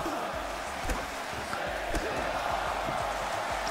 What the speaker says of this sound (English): The crowd is responding to the violence.